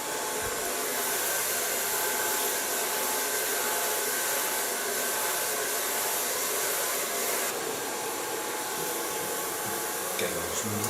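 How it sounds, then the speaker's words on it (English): A new hair blow dryer running continuously, a close, loud, constant whooshing roar that stays level, shifting slightly near the end, with no talking. "Got myself also a new blow dryer."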